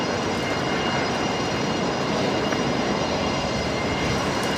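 An airplane roars on the runway at Brisbane Airport, a loud, steady broadband engine rush heard up close with no talk over it.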